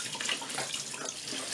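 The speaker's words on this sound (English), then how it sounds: "Simple enough to clean this, as you can see, just some water and some rubbing action." Water runs steadily and softly into a sink as a part from an Indesit washer dryer is rinsed and rubbed by hand, a continuous gentle splashing throughout.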